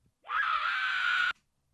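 A processed ogre-like voice screams through a Nuendo voice designer effect, one sustained harsh, buzzy cry lasting about a second, loud and close, then cutting off abruptly.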